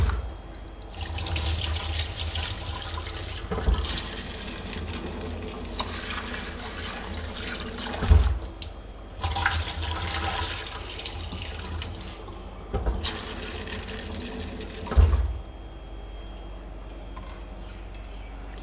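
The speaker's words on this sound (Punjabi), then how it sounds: "ਧੋ ਕੇ ਆਪਾਂ ਇਹਨਾਂ ਨੂੰ ਮਾਰ ਮਾਰ ਕੇ ਚੰਗੀ ਤਰ੍ਹਾਂ ਧੋ ਦੇਣਾ" Whole black lentils and kidney beans for dal makhani are washed by hand under a running kitchen tap. Water gushes in long bursts with splashing and rubbing, broken by brief pauses and thuds.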